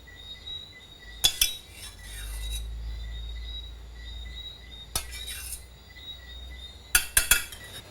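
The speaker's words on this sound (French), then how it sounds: "On va napper les coquilles avec la sauce." A spoon clinks against scallop shells while sauce is ladled over coquilles Saint-Jacques in a Martinique kitchen, with a few sharp metallic taps in short clusters separated by quiet gaps.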